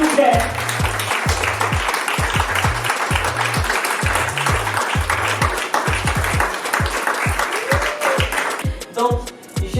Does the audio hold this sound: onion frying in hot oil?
no